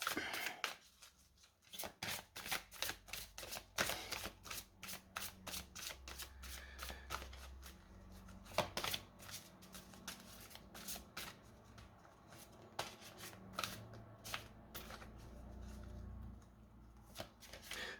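Playing cards are shuffled and handled close by in a quiet room, giving repeated soft riffling bursts and crisp snaps in an irregular rhythm, with no talking.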